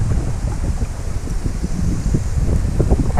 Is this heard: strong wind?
yes